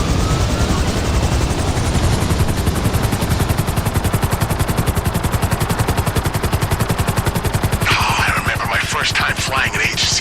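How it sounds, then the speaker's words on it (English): An agency helicopter in GTA Online flies with a loud, close, rapid rotor chop that holds steady throughout, with a brighter burst of noise layered on near the end. "Flying an agency helicopter."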